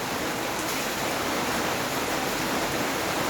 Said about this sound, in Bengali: বাইরে প্রচণ্ড পরিমাণে বৃষ্টি